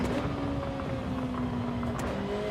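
Car engine in the Gran Turismo 7 racing game, a steady droning engine note holding a sustained pitch that sags slightly, loud and continuous without speech.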